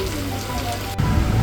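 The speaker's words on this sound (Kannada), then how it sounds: "ಒಳ್ಳೆ ಜೋರು ಮಳೆನೇ ಸ್ಟಾರ್ಟ್ ಆಯ್ತು ಮಾತ್ರ" Heavy monsoon rain falling on the Kodachadri trek, a steady broadband downpour that continues throughout and grows slightly louder and denser toward the end, with no voices.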